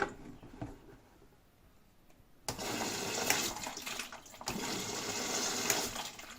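A washing machine's inlet valve clicks open and water rushes steadily into the prewash detergent compartment, a loud broadband spray that starts abruptly after a quiet lead-in and continues to the end with a brief dip midway.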